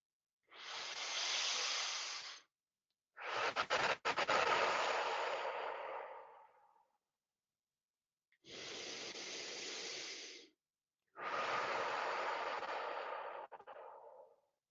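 Deep breaths are drawn in and let out slowly in four long, airy hissing sweeps separated by silences, heard close and quiet with no talking.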